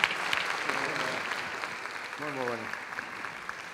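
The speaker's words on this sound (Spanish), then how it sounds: "Un aplauso." At a wellness forum the audience gives steady, moderately loud applause for a speaker, and people talk briefly over the clapping partway through.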